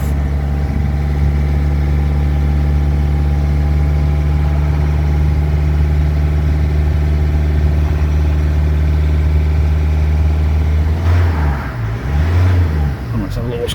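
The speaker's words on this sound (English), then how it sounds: "then we just have to run the car with some throttle for a bit" Vauxhall Mokka 1.7 CDTi diesel engine running with held throttle during a DPF clean, a loud steady drone close by that shifts pitch near the end.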